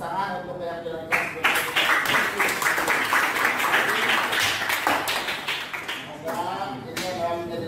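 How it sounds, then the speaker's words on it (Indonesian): A class applauding together, a dense burst of rapid clapping from many hands that runs steadily for several seconds, with voices audible at the start and end. "tepuk tangan untuk keyakinan kelas."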